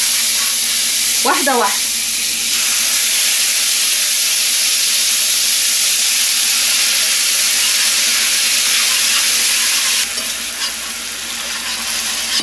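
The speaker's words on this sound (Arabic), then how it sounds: "ابتدي احط الخليط ده بشويش خالص واقلب، والنار هاديه خالص" A rice mixture sizzling in a pan over low heat while being stirred for Jamaican rice and red beans, a steady close frying hiss with a short scraping stir near the start and someone speaking briefly.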